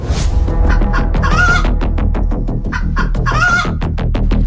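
Cartoon chicken clucking loudly and repeatedly in quick bursts, with brief crowing-like calls, over a steady musical backing.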